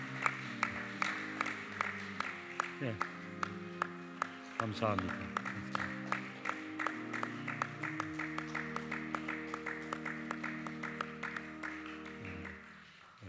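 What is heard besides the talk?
congregation applauding in church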